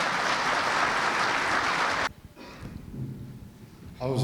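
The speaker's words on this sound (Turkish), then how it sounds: "Kuvvetli de bir alkış alalım lütfen." Audience applause at an opening ceremony of a Turkish business association event, a dense burst of clapping for about two seconds that cuts off abruptly, followed by quieter room sound and a voice starting at the end.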